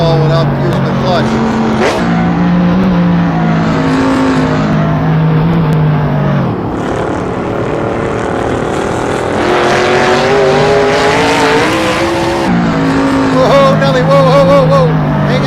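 A Mercedes-AMG C63 revs hard and loud, the engine climbing and dropping in pitch over several long surges, with screeching tire squeal breaking in as the tires are burned off.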